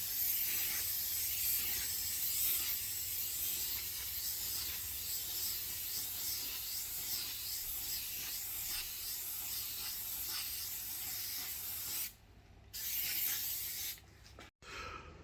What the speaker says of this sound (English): I've just sprayed the horizontal and vertical layer of the spray adhesive